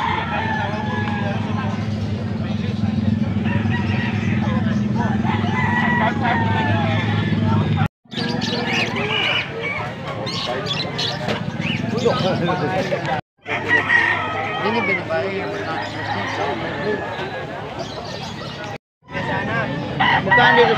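A young stag gamecock crows repeatedly amid a crowded, noisy poultry setting, with other roosters and chicken clucks mixing into a dense, continuous din broken by a few brief silent cuts.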